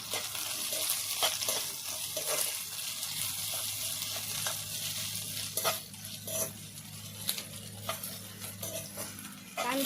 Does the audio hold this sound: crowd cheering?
no